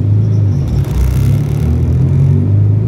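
Modified Honda Integra DC2 pulling away at a green light, a loud, steady close engine rumble and drone that holds throughout without a break.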